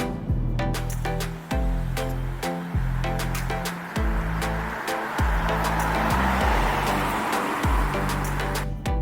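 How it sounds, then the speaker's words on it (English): A BMW 430i Gran Coupe engine revs hard in sport mode through several gear shifts, the pitch climbing and dropping repeatedly in a steady rhythm, loud and close. "the acceleration, as you can hear, in sport mode is fantastic."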